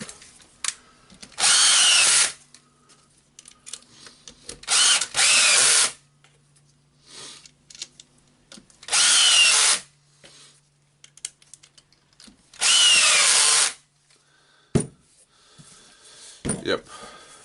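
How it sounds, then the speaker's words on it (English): A power drill whirs in four loud bursts of about a second each as screws are driven back in during an appliance repair, with short pauses between bursts and faint talk in the background. "The 4 screws are going back now."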